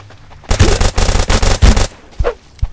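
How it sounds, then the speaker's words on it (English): Pistol gunfire in a video game, a loud close burst of rapid repeated shots lasting about a second and a half, followed by a few scattered fainter pops. "Was that you shooting your pistol?"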